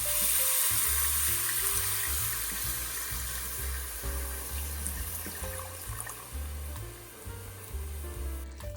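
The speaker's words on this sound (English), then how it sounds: "Now, it's time to deglaze with furmint wine." Furmint wine is poured into a hot pan to deglaze it, giving a steady loud sizzle and bubbling hiss that holds for several seconds and then eases slightly toward the end.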